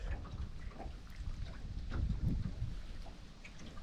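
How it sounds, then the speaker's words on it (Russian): Steady wind rumbles against the microphone on the Akhtuba River, with a low, fluctuating roar, building slightly in the middle before settling, with no speech. "Везде ветрище."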